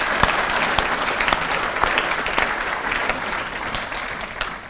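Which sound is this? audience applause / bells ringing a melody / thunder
audience applause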